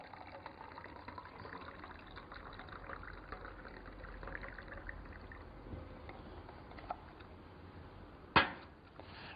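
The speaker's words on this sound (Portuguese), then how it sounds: "Colocamos então a água quente em um dos copos." Hot water poured from a thermos into a cup for a chemistry demonstration, a soft continuous liquid trickle and splash at low level, ending with a brief sharp clink near the close.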